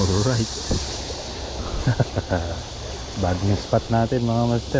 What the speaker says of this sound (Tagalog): Pasensya na kayo sa ingay mga master, kuliglig kasi ang narinig niyo.